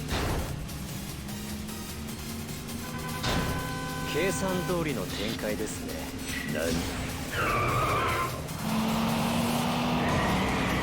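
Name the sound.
car drifting with tire skid, Yakuza 5 taxi racing video game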